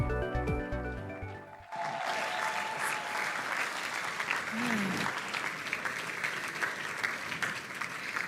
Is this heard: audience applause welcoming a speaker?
yes